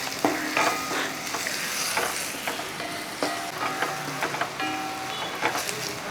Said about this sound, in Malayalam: കറിവേപ്പിലയും കൂടെ അങ്ങോട്ടിട്ട് കൊടുക്കുക ആ അതിട്ടതിന് ശേഷം നിളക്കി കൊടുക്കുക